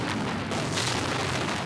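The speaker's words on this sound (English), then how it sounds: "Huge explosion." A huge wartime explosion in Baghdad during the 2003 Iraq war, heard as a sustained, loud, rumbling roar across the whole stretch with no distinct sharp onset.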